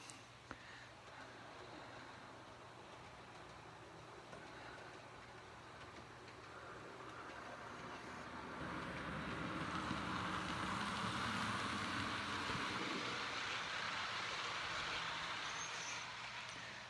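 Model train locomotive running around a layout, giving a steady low rumble and whir that swells louder as it passes nearby, then eases slightly, with no talk.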